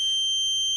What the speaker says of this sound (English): that's alarm for the water level